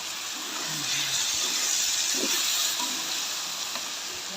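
Meat sizzling and frying steadily in a pan while being sautéed for biryani, a continuous broadband hiss with faint scraping and light stirring sounds, close and moderately loud, no talking.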